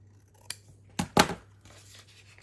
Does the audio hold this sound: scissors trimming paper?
yes